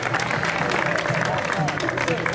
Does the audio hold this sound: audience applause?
yes